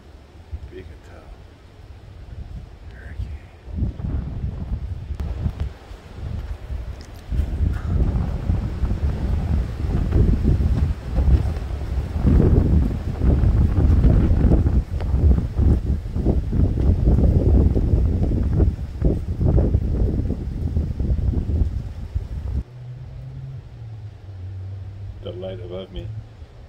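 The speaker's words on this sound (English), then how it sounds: "it's really weird because they come through in pockets of wind" Gusty wind from Hurricane Hilary buffets the microphone in strong, uneven surges that swell and ease over about twenty seconds, with quieter stretches at the start and end and occasional voices.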